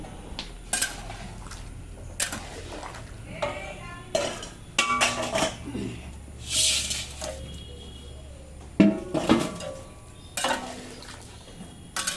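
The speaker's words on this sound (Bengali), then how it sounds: "এবার ভেজে রাখা মাছগুলো কড়াইতে দিয়ে দিচ্ছি" Fried fish pieces dropped back into a metal kadai, heard as scattered clanks, scrapes and clinks of utensils against the pan, with soft sizzling underneath and pauses between bursts.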